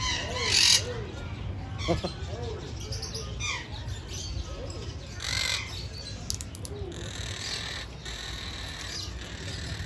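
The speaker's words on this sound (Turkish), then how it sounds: "burada da papağan türleri var" Several parrots squawk and screech in short bursts at a zoo in Nazilli, Aydın, some near and loud, others farther off, with faint chatter and background noise between calls.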